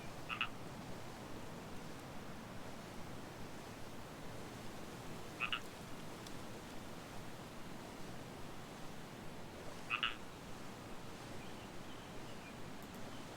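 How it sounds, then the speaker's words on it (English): A frog at Umber Lake in the game Book of Travels croaks three times, short bright calls spaced about five seconds apart, over a steady bed of soft lakeside water and ambient noise. "Old Umber Lake frog."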